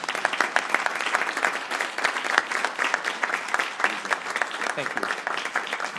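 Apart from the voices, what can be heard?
audience applause at board meeting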